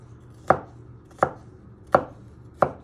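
A knife chopping garlic on a cutting board: four sharp, evenly spaced chops about 0.7 seconds apart, close and crisp with quiet pauses between and no talking.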